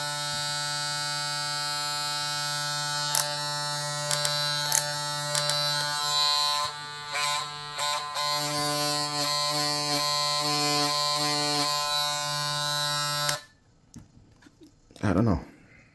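A Kemei KM 1767 hair clipper runs with a steady, close electric buzz for several seconds, briefly changing pitch as it is handled, then switches off, leaving quiet rustling.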